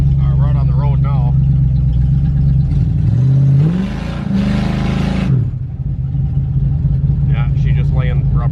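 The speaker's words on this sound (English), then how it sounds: "Yeah, she just laying rubber." A carbureted 500 cubic inch big-block Cadillac G-body revs up hard with a rising whine and a burst of tire noise on a wet road, then settles back to a rumbling idle as people talk.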